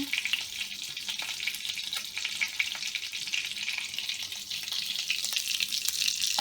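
Oil spatters and crackles steadily as a Thai omelette fries in a pan, a close, dense hiss that holds at an even level throughout with no voices.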